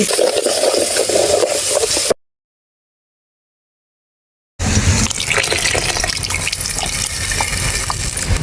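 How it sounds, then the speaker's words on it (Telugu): Tamarind juice is poured into a simmering bitter gourd curry, a close, steady gushing splash that stops abruptly for a couple of seconds of silence before pouring resumes just as loudly. "చింతపండు పులుసు అయితే పోయేసుకున్నాను"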